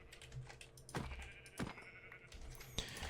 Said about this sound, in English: hopefully there's 3 white sheep. Yes, there is.